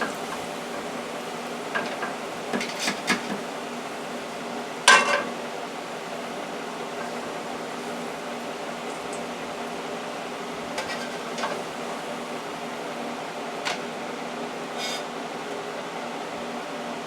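Chicken livers fry in a pan with a soft, steady sizzle. A few scraping stirs and clatters rise briefly above it.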